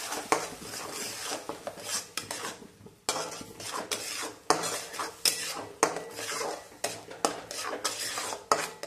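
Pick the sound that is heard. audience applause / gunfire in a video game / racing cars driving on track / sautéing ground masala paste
sautéing ground masala paste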